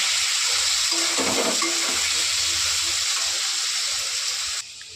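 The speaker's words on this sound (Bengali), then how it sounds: "এবার নুন হলুদ দিয়ে আলুটাকে ভালো করে ভেজে নেব।" Potatoes seasoned with salt and turmeric fry in a pan, giving a steady bright sizzle with a few soft stirring scrapes, close and fairly loud, and no voices.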